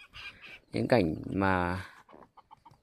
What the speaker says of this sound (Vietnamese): đây thì mình có nuôi một ít gà tre